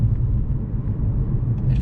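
Jaguar S-Type R supercharged saloon of over 400 hp, its engine running as a steady low rumble heard from inside the cabin, with no voices, staying level for the whole short stretch.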